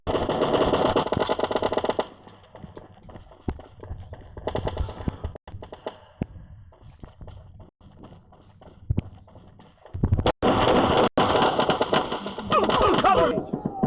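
Shotgun gunfire in a team deathmatch video game comes in loud bursts at the start and again near the end, with quieter tapping and clicks in between.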